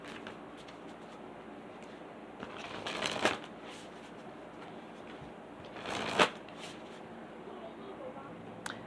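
A deck of Spirit Junkie oracle cards is shuffled by hand, with soft riffling bursts and two louder flurries of card slaps over a quiet room background.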